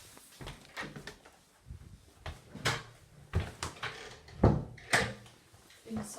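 A door in a property under inspection, stiff and not closing easily, thuds and knocks in a series of sharp close bangs and clatters with quieter shuffling between them.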